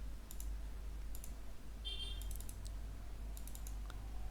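A computer mouse on a Windows 11 setup gives a few light, quiet clicks in scattered pairs and clusters over a low steady hum, with no talking.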